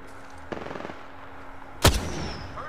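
Gunfire in a battle-royale style video game: a single sharp, loud shot rings out near the end, preceded by a few faint distant pops.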